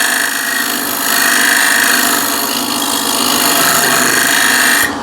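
An old carbon steel chisel used as a scraper on wood, a loud continuous rasping scrape with steady back-and-forth strokes close up, no talking.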